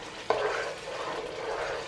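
Chicken pieces for bhuna khichuri sizzle in a hot pan as they are stir-fried, with one sharp clatter of a spoon early on followed by a steady, soft frying hiss.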